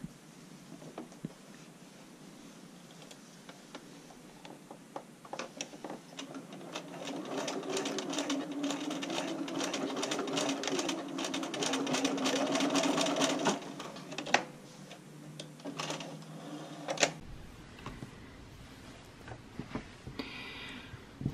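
A sewing machine stitches back and forth on bra channeling at the center front. Steady whirring bursts run for several seconds, swelling in the middle, then give way to quieter handling noises near the end.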